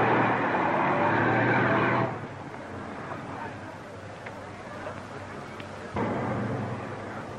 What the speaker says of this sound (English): The Inspector General's car is coming